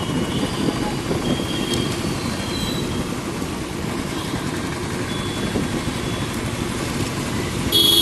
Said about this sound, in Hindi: और उधर भी ट्रैफिक, दूसरी साइड भी आने वाली कैरेज वे पे भी बहुत सारा है।